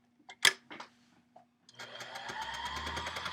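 An embellishing machine stitches over fabric, first a few scattered clicks and taps, then a steady fast needle chatter that builds and runs on, close and moderately quiet.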